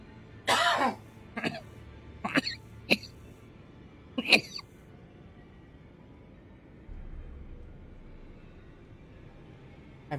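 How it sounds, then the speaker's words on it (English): A person coughing in several harsh close bursts, a cluster of hacking coughs early on and one more a moment later, then a quiet stretch. "I'm coughing so much"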